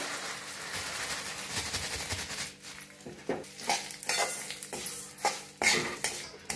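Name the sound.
roasting sesame seeds in oil in a pan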